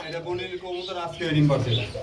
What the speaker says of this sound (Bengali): আরেক জোড়া কবুতর রয়েছে এটা কি কবুতর ভাইয়া